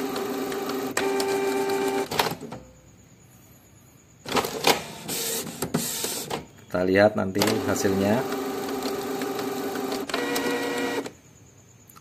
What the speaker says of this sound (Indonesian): Untuk printer Canon yang paling presisi ya ini Canon tipe IP2770